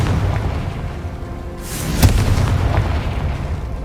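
A Confringo blasting spell from the Hogwarts Legacy video game explodes in one sharp boom over a steady ambient game background, with no voices heard.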